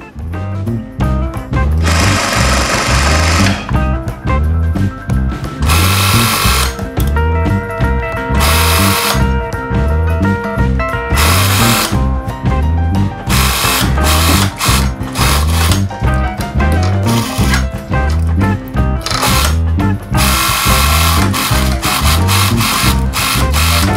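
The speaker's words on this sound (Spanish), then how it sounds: "Le paso otra costura." A sewing machine runs loud and close, stitching a patchwork bag sewn from fabric scraps in repeated bursts of rapid mechanical whirring, with brief pauses between seams.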